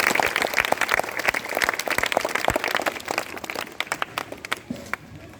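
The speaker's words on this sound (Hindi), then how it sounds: "बजाओ ताली इसके लिए" Audience clapping at a police team safety talk on lightning precautions, brisk irregular claps from a sizeable group that fade toward the end.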